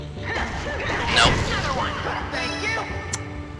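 Explosions go off in FMA & the Broken Angel, a sewer level, a broad rumbling blast swelling mid-clip among crackling game effects, with people talking over the action.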